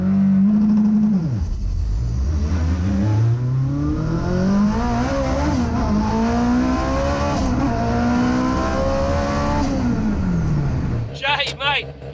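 Onboard a Toyota MR2 rotary drag car running a drag strip at a shootout event: a loud, continuous engine roar climbs in pitch through successive gears before easing off, with a brief rattling burst at the end.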